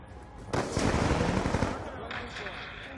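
Black Ops 2 multiplayer gunfire, with a sniper rifle in play. A sudden loud, crackling burst of shots lasts about a second, then fades into a duller rumble and lingering echo.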